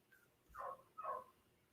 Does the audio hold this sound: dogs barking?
yes